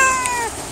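A cat meows at a cat farm, one drawn-out, loud, close call that fades toward the end, heard alone.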